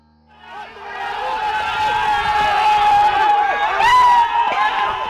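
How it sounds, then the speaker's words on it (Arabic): A crowd of young students on a university campus chants and shouts political party slogans, the massed voices rising from silence into a loud, sustained, tonal din with a sharp surge near the end. "هتافات لأحزاب سياسية مختلفة، شباب رافعين شعارات يصرخون يهتفون ينادون بها"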